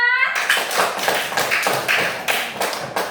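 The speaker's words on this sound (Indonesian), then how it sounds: "Beri tepuk tangan untuk Zulfa." A classroom of schoolchildren claps for a classmate, a rhythmic burst of sharp, fairly close claps following a brief tonal sound at the start, with no talking over it.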